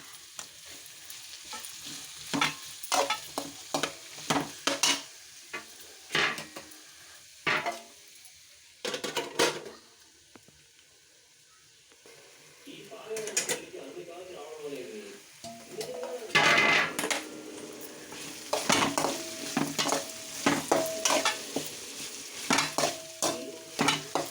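A spoon stirs vegetable curry sizzling in a pan, giving repeated scraping and clattering strokes in irregular bursts over a soft, continuous frying hiss, with a short quieter pause near the middle.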